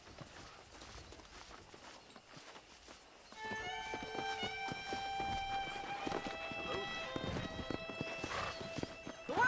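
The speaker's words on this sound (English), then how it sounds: "Let's see if we can't wrangle some horses." Horse hooves clip-clop at a run in the Red Dead Redemption western video game, with a whinny, sustained musical tones and voices speaking over the hoofbeats.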